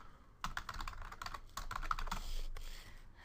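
Keys clatter in a steady, fairly close run of typing on a computer keyboard as a web link is entered, with no voices present.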